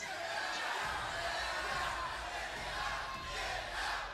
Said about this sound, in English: Can we get a get out chant from the crowd?